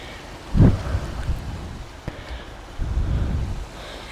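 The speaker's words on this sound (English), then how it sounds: "When it is raining, guys, it is raining." Rain and rolling thunder in the FiveM game world, with low rumbles swelling twice over a steady wash of rainfall, no voices.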